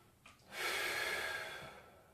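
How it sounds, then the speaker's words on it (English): A single long breath drawn in through the nose during a running stretch, close and airy, rising quickly and fading slowly over about a second and a half, with no voices. "breathing in through the nose"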